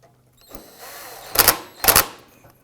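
Bolts on a Ford F-150 heat shield are tightened with a tool, giving two short, loud bursts of close mechanical whirring after a faint scrape, with no talking.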